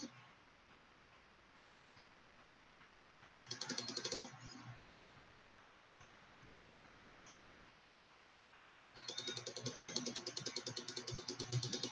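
Someone types on a keyboard in two bursts of rapid, crisp clicking, fairly faint and indoors, separated by a quieter stretch with low background noise.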